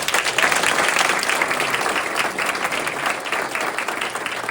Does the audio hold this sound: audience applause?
yes